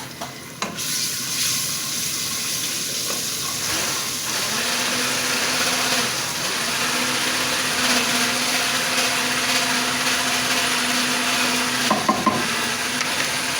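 Garlic and ginger paste frying in a pan with whole spices, a steady loud sizzle that fills the whole stretch, with a few utensil knocks near the start and end.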